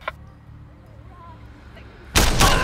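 A sniper rifle shot in the video game Sleeping Dogs, one sharp loud blast with a short rolling tail near the end, after a quiet stretch of low background ambience.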